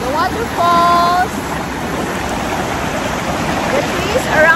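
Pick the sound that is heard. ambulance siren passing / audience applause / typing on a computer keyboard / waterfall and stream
waterfall and stream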